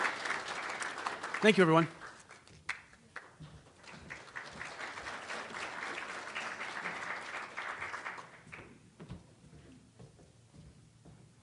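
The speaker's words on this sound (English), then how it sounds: "let's give them all one more big round of applause" An audience applauds Native American graduating seniors, steady moderate clapping that runs for several seconds and then fades out, with a speaker talking near the start and again after it dies down.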